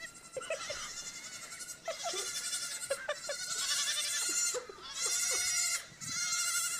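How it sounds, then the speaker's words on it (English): A stampede of about 70 baby goats at Sunflower Farm in Maine, a dense chorus of overlapping high bleats and cries, loud and continuous, with scattered thumps of hooves. "This is the sound of a baby goat stampede."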